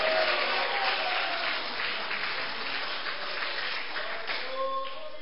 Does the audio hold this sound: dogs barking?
no